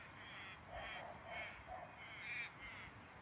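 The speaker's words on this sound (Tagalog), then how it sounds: "Ay, ibon yun." Crows caw several times in a row at a distance, faint harsh calls over a low background hiss.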